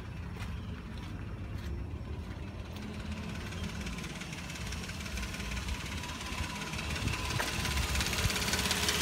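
A 2005 Nissan Quest engine that needs a timing kit runs at a fairly quiet idle with a faint knocking rhythm, then rises in the last seconds as it is revved, with no voices.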